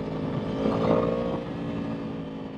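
Yamaha R1 Big Bang motorcycle engine running with a throaty uneven rumble that swells briefly as the throttle opens, then settles, close and steady without speech.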